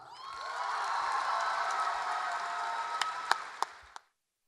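A poetry slam audience cheers, whoops and applauds a poet in a loud, sustained burst. A few sharp claps stand out as the noise fades to silence.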